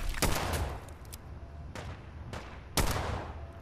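Gunshots in Fallout 4: several loud, sharp reports ring out at uneven intervals, each with a short echoing tail, over a low background rumble.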